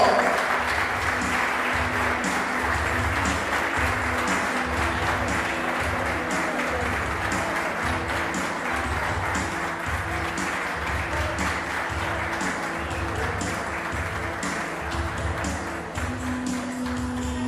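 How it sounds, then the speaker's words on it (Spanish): An audience gives Teresa Montenegro, a retired woman being honored, a loud, sustained round of applause that fills the room steadily from start to finish, with a faint musical tone underneath. "Recibimos con un fuerte aplauso a Teresa"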